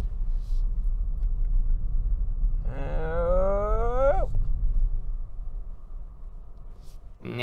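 Kia Ceed car making a tight turn, heard from inside as a steady low rumble while a whining tone climbs in pitch for a second or two and then stops abruptly; no talk.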